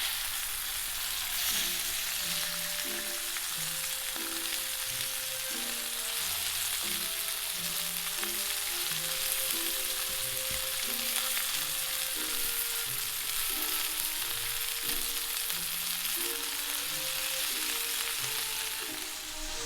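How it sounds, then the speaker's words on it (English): Chicken browning in a frying pan with a steady, dense sizzle that holds evenly throughout, while soft background music plays underneath. "You can let the chicken cook even a little longer on each side if you want to get it even more golden brown."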